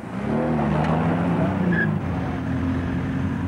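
Classic cars, an Austin Healey followed by a two-stroke Saab, roll through a gate at an old-car gathering, with a steady close engine drone held throughout.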